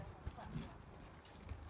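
Horses being ridden, with a few faint hoof clip-clops in a brief stretch under nearby talking.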